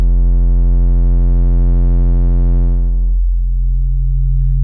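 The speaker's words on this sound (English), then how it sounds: "So if I play a note here, you can see that this is our F sine wave." A steady synth F sine-wave note with distortion, giving a rich stack of harmonics, loud and sustained; partway through the upper overtones drop away, leaving a purer, rounder note.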